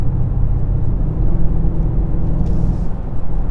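A Mercedes-AMG GLS 63 cruises on the Autobahn, heard from inside the cabin as a steady, dense road and engine rumble with tire noise and no talking.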